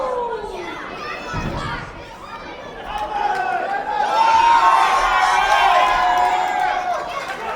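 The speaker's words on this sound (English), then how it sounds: "This crowd is rowdy from the onset." A rowdy crowd at an independent wrestling event, with loud continuous shouting, chatter and cheering from many voices that swells louder midway and stays dense throughout.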